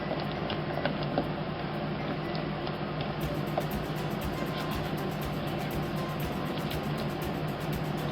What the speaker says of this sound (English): Alright, we'll get this all mixed up.